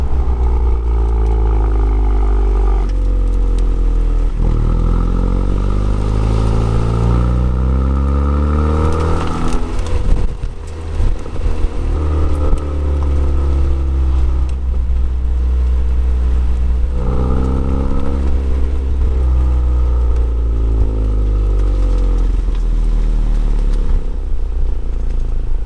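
A Honda Civic Type R fitted with a Remus exhaust revs repeatedly, its engine note rising and falling in strong sweeps with a deep, loud, close exhaust rumble underneath throughout.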